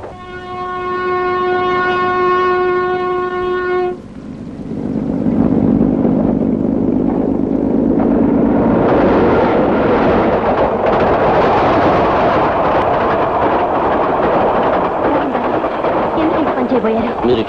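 Train passing by, first a long sustained horn blast, then a loud rushing rumble of rail cars that builds and continues close by, with voices mixed in.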